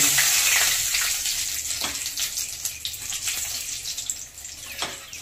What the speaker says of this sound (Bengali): তেলটা ভালো করে গরম হয়ে গেছে, এতে আমি 2টো শুকনো লঙ্কা দিলাম, দিয়ে দেব অল্প করে কালো জিরে ফোড়ন